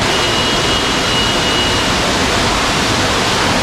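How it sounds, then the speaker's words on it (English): Roadside waterfall on the route from Gangtok to Lachen in North Sikkim, a loud, dense, unbroken roar of rushing water heard close up and alone. "this is the waterfall that we have on the way"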